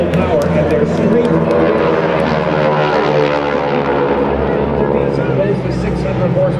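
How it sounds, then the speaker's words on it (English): GEICO Skytypers aircraft, each driven by a 600-horsepower nine-cylinder Pratt & Whitney radial engine, drone loudly and steadily overhead at an air show, with an announcer talking over the throbbing propeller roar. "the 600 horsepower Pratt & Whitney radial engine with 9 cylinders"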